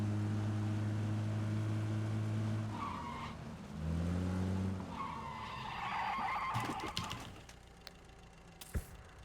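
Car in the PUBG video game revving and driving, then skidding with tire squeal and scattered impacts toward the end, loud and close with no talk over it.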